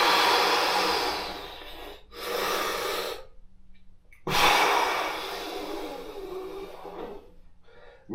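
After a somatic squeeze exercise, a person breathes heavily and close up in long, loud, rushing breaths separated by brief silent pauses.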